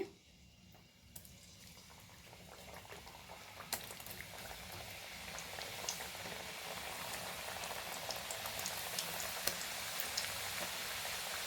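Sweet shankar poli flatbread fries in oil on a pan, giving a steady, close sizzle and bubbling that slowly builds in intensity, with no talking.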